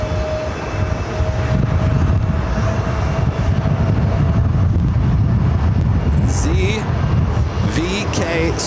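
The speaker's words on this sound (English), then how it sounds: "777-300ER heading back to Doha" A Qatar Airways Boeing 777-300ER jet at JFK airport gives off a steady, loud, broadband engine roar the whole way through, with a few brief higher whines near the end and people talking underneath.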